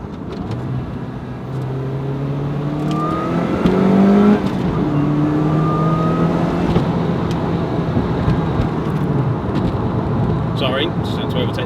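A Lotus Elise 220 Cup engine pulls hard while overtaking a Qashqai on the road, its steady drone rising in pitch through the gears, loud and close inside the cabin, with someone talking over it.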